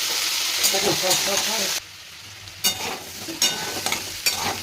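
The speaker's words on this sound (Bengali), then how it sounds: "ভালো করে একটু ভেজে নেবো আলু আর ডুমুরটা।" Potatoes and figs fry in a wok with a loud, steady sizzle broken by scraping and stirring clatter. The frying drops away briefly partway through, then returns with intermittent clanks and hissing.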